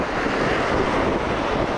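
Waves and wind roar steadily on a rocky shore during lure fishing for tailor, a dense, constant rush of surf and gusting air with no voices.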